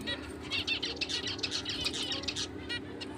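Black-breasted and CFW jumbo finches in a cage make fluttering wingbeats and soft chirps close by. The rustling goes on steadily over a low background hum.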